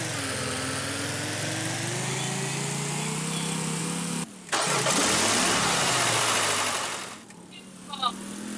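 A car engine in a video game drones and revs steadily, then cuts out abruptly before roaring back up and gradually fading, with a short mechanical clatter near the end.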